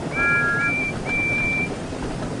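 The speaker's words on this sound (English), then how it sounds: "Yeah, someone's whistle sounds distorted." A distorted steam-engine-style train whistle for Percy in a Thomas the Tank Engine train video game sounds in three thin, wavering high toots over a dense rumbling background, fairly loud and close.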